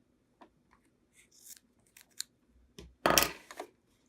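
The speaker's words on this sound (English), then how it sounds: "I can trim the end here" Scissors snip the end of fold-over elastic, a few light clicks and then one louder, crisp cut near the end, close and alone in a quiet room.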